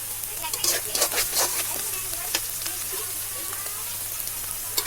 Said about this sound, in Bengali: আমি এখানে মরিচ আর রসুন দিয়েছি, ভেজে নিচ্ছি।